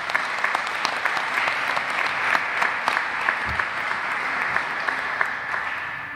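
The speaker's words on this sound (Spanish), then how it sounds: "pido un aplauso para aquellos que nombré" A room full of people clapping steadily and warmly at a cultural award ceremony, a dense patter of hands that holds at an even level throughout with no voices on top.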